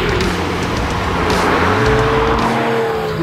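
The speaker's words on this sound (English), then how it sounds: "the car with sports exhaust on is the noise, especially on the overrun" A new Porsche 911 engine fitted with a sports exhaust, a loud sustained roar under acceleration with a rising and falling engine note and no voices over it.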